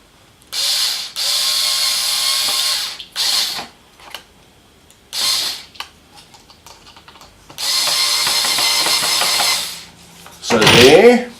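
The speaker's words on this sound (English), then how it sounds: "we've got to screw the screw into our little plug" A screw being driven into a small plastic plug for a DIY bottle mole chaser, heard as several bursts of ratcheting, clicking turns separated by short pauses, close and fairly loud, ending in a brief louder rattle.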